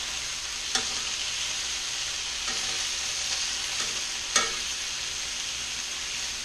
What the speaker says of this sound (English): Rotate my meat.